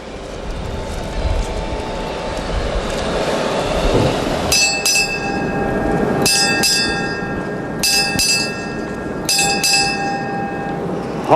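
Four groups of bright, ringing ship's bell strikes, each a quick pair of chimes, at the USS John F. Kennedy decommissioning ceremony in Mayport, Florida, over a steady low background rumble after a few seconds of ambient noise.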